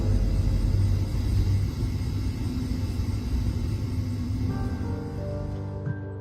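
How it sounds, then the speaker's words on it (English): Thunder rolls across the sky on a rainy night, a dense, loud, continuous rumble that stays heavy throughout and eases slightly toward the end, with no voices. "the sky rumbles with thunder and lightning"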